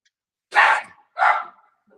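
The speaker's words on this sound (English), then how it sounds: "my dog's barking there" A dog barks twice in quick succession, close and loud, each bark short and sharp with a brief pause between, in an otherwise quiet indoor room.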